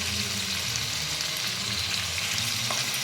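Ginger paste with turmeric powder frying in hot oil for a vegetable tehari, giving a steady, dense, even sizzle that carries on unbroken and close at hand with no talking.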